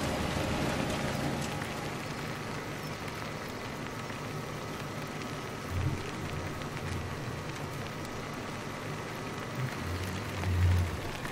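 Steady rain falls in the video game Farming Simulator 17, a continuous hiss of drops patters evenly throughout with occasional low rumbles and no talk.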